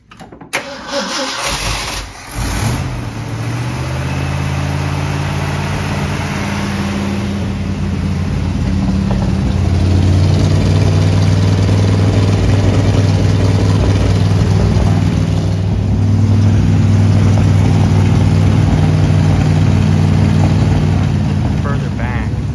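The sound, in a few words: Ford F100 barn-find engine idling with glass pack exhaust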